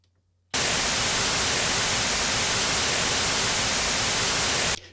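Layered white noise, a loud, dense, even hiss that switches on abruptly, holds steady for several seconds and cuts off sharply, with no other sound.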